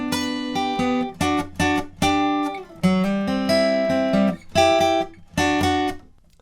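Acoustic guitar riff variation, a series of plucked chord notes played in short rhythmic groups with brief gaps, close and clean with no talking.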